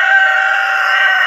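A rooster crows close by in a single loud, sustained call behind a house near a river.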